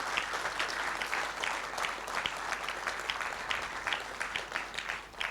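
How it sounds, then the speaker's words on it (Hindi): A large audience at an Indian public event gives loud, dense, continuous applause that stays strong and even throughout, with no talking over it. "एक बार इन सब के लिए जोरदार तालियां मुझे"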